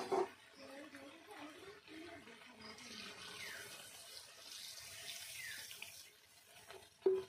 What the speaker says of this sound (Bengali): এখন আমি দিয়ে দেব অল্প পরিমাণে জল।